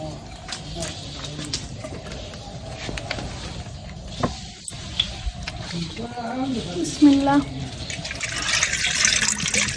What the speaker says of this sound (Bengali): এই যে দুধ দুই লিটার দুই লিটার এটা দুই লিটার দুধটা এখন ঢেলে দেবো